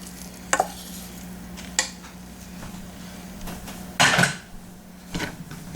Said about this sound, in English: And now we're just gonna mix it.